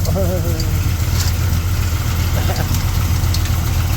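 A 1965 Chevrolet Impala engine idles steadily after starting, a loud, close, low rumble that holds without a break, with a brief voice near the start.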